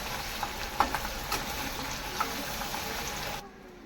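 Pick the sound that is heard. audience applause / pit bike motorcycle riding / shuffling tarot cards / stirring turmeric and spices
stirring turmeric and spices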